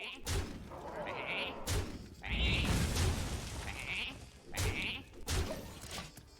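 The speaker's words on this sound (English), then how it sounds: "The legend of the power-infused sheep." A sheep bleats several times in Hearthstone, the calls repeating at intervals over game music and heavy thumping effects.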